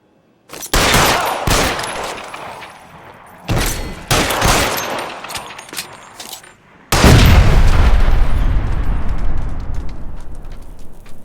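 Heavy gunfire in the video game L.A. Noire, three loud volleys of rapid shots with sharp cracks, the last sustained burst rumbling and booming for several seconds, no talking.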